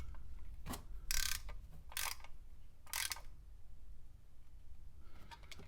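A ratchet tightens the oil drain plug on a 2009-2018 Toyota Corolla 1.8L, giving a few short clicking bursts a second or so apart, close and fairly quiet, with pauses between them.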